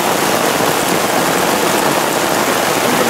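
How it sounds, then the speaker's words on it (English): Heavy rain pours down steadily as a close, continuous broadband hiss, the downpour filling a collection bucket without a break. "It's been raining like this."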